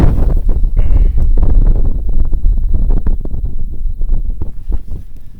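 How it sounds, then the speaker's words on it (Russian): Strong wind sweeping across a frozen river during winter ice fishing on the Volga near Kazan, a loud, constant gusting rumble buffeting the microphone with no voices. "Сильный ветер."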